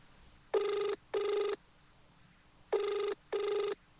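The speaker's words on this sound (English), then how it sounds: "RCOP's phone!" A telephone rings in two pairs of electronic bell bursts separated by a pause, fairly quiet and alone, with no one speaking.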